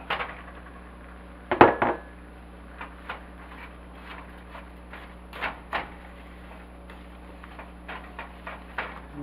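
A spoon stirs brown sugar into a popcorn mix in a pot, with one loud clatter followed by soft, scattered scraping clicks and taps.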